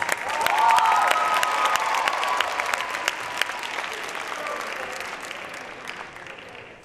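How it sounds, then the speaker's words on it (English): Crowd applause with a few cheers at an MLK Day showcase for a young theater student, strongest early and then gradually easing, with scattered individual claps standing out as it fades. "Give her a round of applause."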